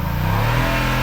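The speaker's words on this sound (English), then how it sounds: "The engine roars as I crank the car up to head her way." A car engine revs up hard, a loud, steady roar with a rising pitch that stays close and fills the whole brief moment.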